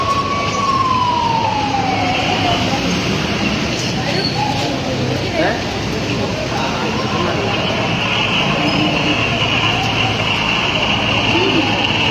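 An ambulance siren on a road at Nellankandi, Kozhikode, wails in a long downward sweep near the start, then stays buried under loud, steady roadside traffic noise.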